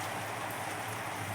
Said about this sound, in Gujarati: પકોડા બનાવવાની હતી પણ હવે વરસાદ ચાલુ છે.